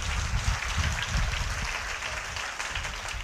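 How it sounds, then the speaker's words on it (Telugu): A church congregation clapping loudly during a Good Friday service, a dense continuous wash of applause at a steady level, with no talking. "ఇప్పుడు గట్టిగా చప్పట్లు కొట్టి దేవుని కనపరచండి."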